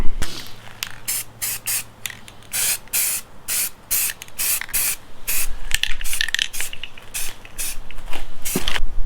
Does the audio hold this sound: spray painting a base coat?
yes